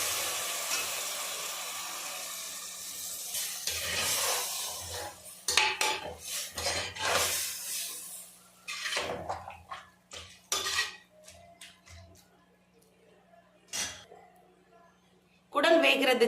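Finely chopped mutton intestines are tipped into masala in a pan and stirred, with metal clatters, scraping and sizzling close by, with a steady hum underneath.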